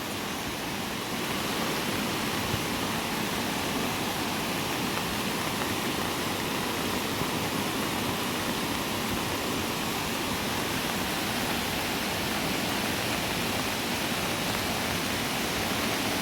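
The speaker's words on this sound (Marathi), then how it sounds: "आणि ह्या सगळा पाणी तिकडे समुद्रात जाता" Monsoon flood water after a cloudburst in Konkan rushing through a stream toward the sea, a steady broadband roar heard continuously at a moderate distance, with no voices.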